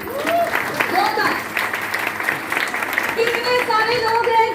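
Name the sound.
audience applause at business seminar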